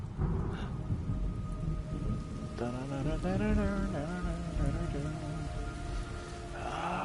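Rain and thunder in the video game Metal Gear Solid Delta: a soft, continuous patter of rain with low rumbling, overlaid partway through by a wavering tonal sound resembling a distant voice or cry.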